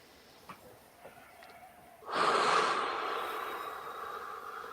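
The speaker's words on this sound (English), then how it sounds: "let's go ahead and take a couple nice big deep breaths in." A person takes a deep breath during a guided meditation, a couple of faint sniffs followed by a long, loud, breathy inhalation or exhalation that swells and slowly fades.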